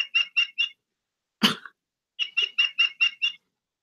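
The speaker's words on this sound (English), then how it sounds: "that's my other bird clock I got, you guys." A bird clock chiming a recorded bird call: a quick series of four chirps, a brief rough squawk, then six more evenly spaced chirps, close and clear with silence between.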